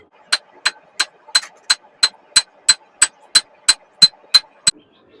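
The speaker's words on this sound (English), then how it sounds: "now I'm gonna do some hammering just to get the layers a little bit closer together." A hammer strikes a copper Damascus billet in a steady rhythm, about fourteen sharp metallic blows evenly spaced, close and loud with near silence between them.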